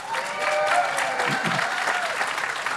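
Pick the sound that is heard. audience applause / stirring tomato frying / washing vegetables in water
audience applause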